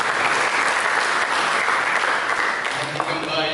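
Congregation in a church service applauding together, a dense, steady wash of clapping that holds for several seconds before easing slightly, with some voices mixed in.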